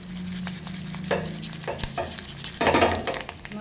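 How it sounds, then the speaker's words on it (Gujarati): Oil sizzles steadily as dried red chillies fry until brown for coconut chutney, with a few scraping stirs and a louder crackling burst near the end. "મરચાં જે છે એ એકદમ બ્રાઉન કલરના થઈ છે ત્યાં સુધી આપણે એને તળી દેવાના છે"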